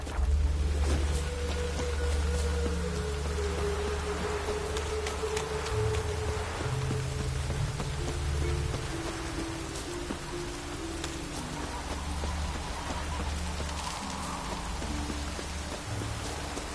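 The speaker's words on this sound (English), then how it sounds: "Even the rain smells different here." Steady rain falling in The Witcher, a dense continuous patter with fine crackling drops over a low rumbling ambience that holds evenly throughout, with no voices.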